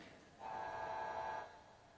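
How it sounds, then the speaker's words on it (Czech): A car horn from a customization menu in GTA 5 sounds as a single steady tone lasting about a second, moderately loud against quiet game background noise. "Jaký tady dám ten klakson."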